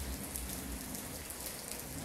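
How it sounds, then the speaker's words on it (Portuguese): Steady rain falling on a January afternoon in Itumbiara, Goiás, Brazil, a dense, even hiss of drops on surfaces that stays constant and fairly close throughout, with no voices. "Tá prometendo chuva o ano inteiro, que começou a chover agora"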